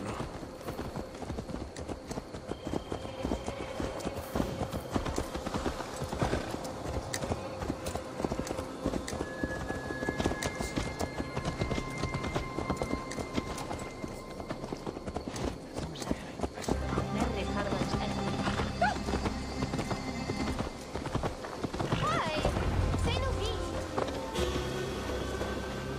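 Horse hooves clip-clop steadily in Assassin's Creed Valhalla, a brisk rhythmic trot running throughout under game music and characters speaking.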